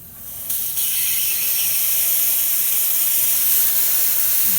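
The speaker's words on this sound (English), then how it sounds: "The Anita has powerful but quiet steam" A Quick Mill Anita espresso machine's steam wand opens with a soft click and settles into a continuous, even hiss of steam, close and steady for several seconds with no voices.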